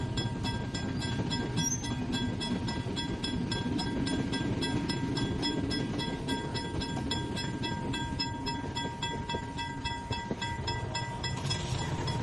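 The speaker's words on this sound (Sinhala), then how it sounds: "අපේ ගමන අතරතුරදී කෝච්චියක් යනකලුත් අපිට පොඩි වෙලාවක් බලාගෙන ඉන්න සිද්ධ වුණා." A train rolls past close by on a journey near Katunayake, a steady broad rumble of wheels and carriages holding at an even level for about twelve seconds with faint rhythmic clatter and no voices.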